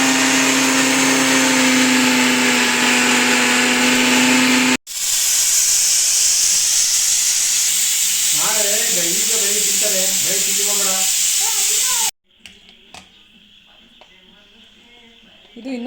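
A kitchen mixer grinder whirs loudly while grinding coconut masala for an egg and chicken sambar, a steady high whine. It cuts off briefly, runs again, and then stops while someone speaks over clattering.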